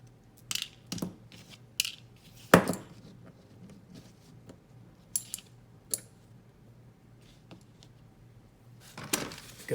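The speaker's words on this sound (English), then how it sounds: "Undo the screws of the other slab here." Small screws being undone on the slab of a BBbarfly SuperFly balisong trainer, heard as scattered close metallic clicks and ratcheting ticks with a louder clack partway through and quiet gaps between.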